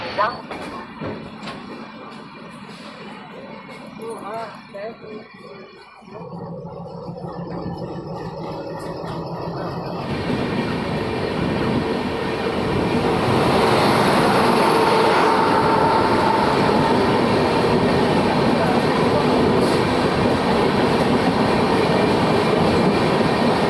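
Ratnagiri SF Express pulling out of platform 6 at Itarsi Junction, a steady loud rumble and rattle of coaches on rails that swells and fills the clip, heard close from on board.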